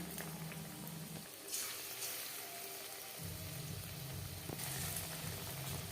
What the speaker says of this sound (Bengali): বেশ খানিকটা রিফাইন্ড অয়েল গরম করে নিয়েছি এবার দিয়ে দেব ম্যারিনেট করে রাখা চিকেন